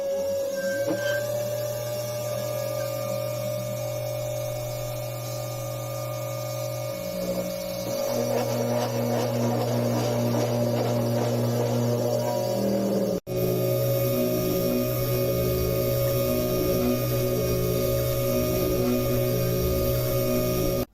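A desktop CNC machine mills copper circuit board with a steady, loud mechanical whine and motor hum. Its pitch shifts partway through, then the sound cuts briefly and resumes at a changed tone.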